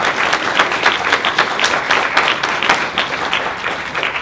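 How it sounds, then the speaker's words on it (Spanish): An audience applauds the museum team at the close of an art dialogue event, steady dense clapping from a crowd throughout, fairly loud and close. "Realmente merece un gran aplauso también el equipo."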